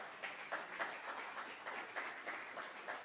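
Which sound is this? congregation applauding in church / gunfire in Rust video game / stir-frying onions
congregation applauding in church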